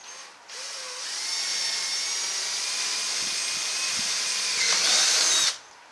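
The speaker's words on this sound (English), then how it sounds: "then I will drill it and bolt it" A power drill whines steadily for about five seconds, high-pitched and close, rising slightly in speed near the end before stopping.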